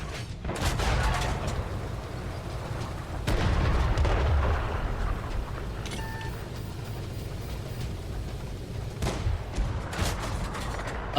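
A tank cannon fires a shell at a Panzer III J in a tank video game, giving a loud booming blast followed by a rumbling tail and a second deep report a few seconds later over continuous engine and battle noise.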